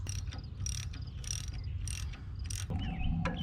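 New bolts being put into an excavator cylinder, with repeated ratcheting clicks in short rhythmic bursts close by, a metallic whir near the end, and a steady low mechanical hum underneath.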